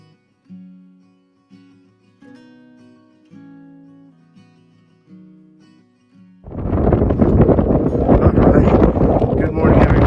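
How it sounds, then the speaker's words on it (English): Quiet music with a few soft notes, then heavy wind buffeting the microphone on a hike at Mount Rainier National Park takes over, loud and continuous rumbling roar until the end. "It might not because it might be way too windy."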